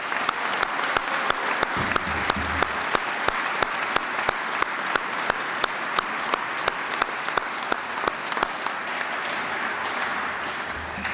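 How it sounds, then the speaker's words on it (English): Steady audience applause at a sports hall of fame induction ceremony, dense clapping from a large crowd filling the room for the whole stretch with no voices over it. "Let's give her one more big round of applause."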